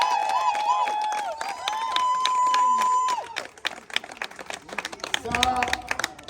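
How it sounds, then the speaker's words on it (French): Parisian guests at a Congolese and Ivorian wedding clap and cheer close by, with rapid applause, whoops and sung or shouted voices, and talk mixed in throughout. "Ce sont des acclamations des Parisiens."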